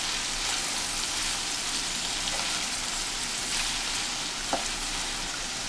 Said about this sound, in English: now I'm gonna be adding my prawn. I'll mix it together